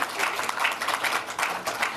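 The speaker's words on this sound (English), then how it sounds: "A round of applause for them as well." Audience applause fills a room at an event hosted at Linklaters, a steady dense patter of many hands clapping at close range with slight swells, no voices.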